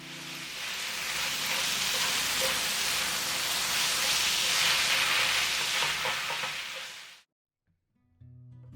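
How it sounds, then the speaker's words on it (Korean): Steady, loud sizzling of glass noodles and vegetables stir-frying for Korean japchae in a hot pan, continuous crackle for several seconds before cutting off abruptly. "당면에 간이 배게 잘 섞어서 야채와 1분 정도 볶아줍니다."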